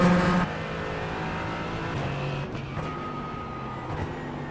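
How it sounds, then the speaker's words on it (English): An LMP3 prototype race car at Watkins Glen holds a steady, loud engine drone whose pitch rises and falls as it goes past, with no talking. "Faster car coming up quick. There's the LMP 3 leader."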